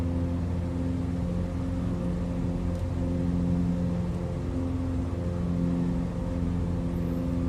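Bush plane engine droning steadily at climb power in Flight Simulator 2020, a constant tonal hum with low harmonics lasting throughout, no voices.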